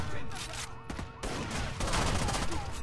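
Gunfire in the Rainbow Six: Vegas video game: a dense, continuous fusillade of shots at moderate distance, somewhat muffled and layered with game noise.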